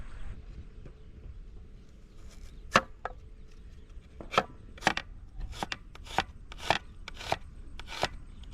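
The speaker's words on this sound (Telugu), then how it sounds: "సో ఇప్పుడైతే ఉల్లిపాయల కటింగ్ ఉంది." Onions being chopped with a knife on a board for chicken curry cooked outdoors in a pot on a hillside, a series of sharp, close, irregular chops, sparse at first and then quicker, over quiet background.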